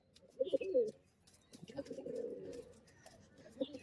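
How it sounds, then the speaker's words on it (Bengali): Giribaz pigeons coo close by in soft, low, rolling calls, a few separate bouts with quiet gaps between them. "এগুলো দুটো দেশি পায়রা"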